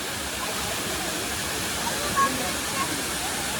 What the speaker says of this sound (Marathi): बघा किती सुंदर वॉटरफॉल आहे